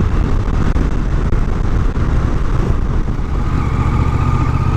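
A Yamaha MT-07 Tracer's two-cylinder engine runs loud and close, a dense, steady throbbing rumble that holds evenly through the whole stretch with no talk over it.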